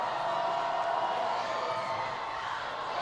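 A crowd at a high school football game between Shorecrest and Snohomish cheers at a play, a broad, steady roar from a distance that runs through the whole stretch with no talk over it.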